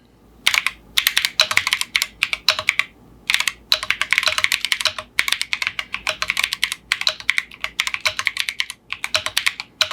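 Fast, steady typing on a Keychron Q1 Pro mechanical keyboard fitted with Gateron beer switches on the letter keys and Keychron banana switches elsewhere; crisp close clacks come in bursts with short pauses and no talking.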